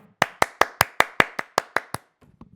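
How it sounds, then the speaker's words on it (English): A run of ten crisp hand claps at an even, steady rhythm, close and fairly loud, followed by a short faint pause of scattered noise at the end. "let's clap it up for Lickety Split"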